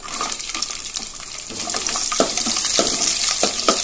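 About twenty garlic cloves sautéing in hot oil with cumin and curry leaves for a bitter gourd gravy, a steady close sizzle broken by sharp scraping, stirring clinks.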